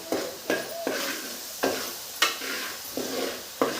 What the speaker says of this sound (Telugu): నూనెలో బాగా ఫ్రై అవ్వాలి ఉల్లిపాయలు